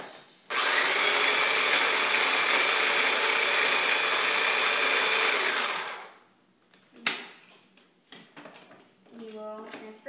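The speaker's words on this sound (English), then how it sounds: "You want to crush them until they're pretty fine consistency, and until all the Oreos are crushed." Oreo cookies crushed fine in a blender, a loud steady whir running for several seconds before stopping abruptly, followed by a few clunks and a brief voice.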